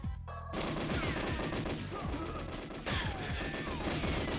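Rapid automatic gunfire crackles in GoldenEye 007 on the N64, dense overlapping shots in steady bursts after a brief pause at the start, loud and continuous with game echoes.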